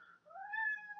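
A single cat gives one clear, rising-then-falling meow lasting about a second, close and alone against a quiet background.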